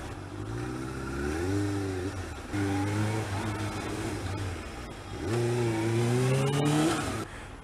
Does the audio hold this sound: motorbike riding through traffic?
yes